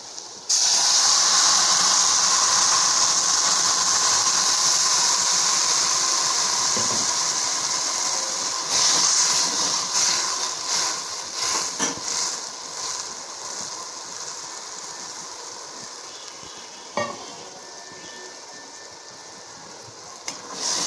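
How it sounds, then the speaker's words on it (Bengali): Hot water poured onto potatoes frying in oil bursts into a loud, close hiss of sizzling steam that slowly fades over twenty seconds, broken by scattered pops, clatters and a few sharp knocks. "আলুটা সুন্দর ভাজা ভাজা হয়ে গেছে দিয়ে দেবো জল গরম জল"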